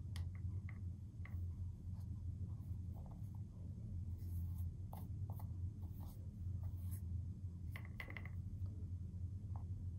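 Paint scraped very lightly across a canvas with a tool, applying pink over red rose shapes in a sculptured painting: a soft, continuous dry scratching and rubbing near at hand, with a few faint ticks and no talk.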